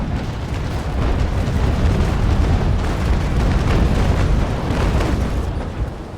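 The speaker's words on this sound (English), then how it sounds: "It's going to be a broadside exchange, good old-fashioned broadside exchange." Cannon broadsides thunder continuously from sailing warships in the naval combat game Naval Action, a heavy, rolling roar of overlapping blasts that never lets up over several seconds.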